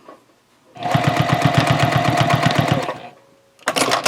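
Close and loud, a sewing machine runs a fast, evenly pulsing stitch along the top edge of a tote bag panel for about two seconds, then starts again briefly.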